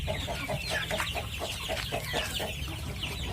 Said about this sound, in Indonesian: Ini anak ayamnya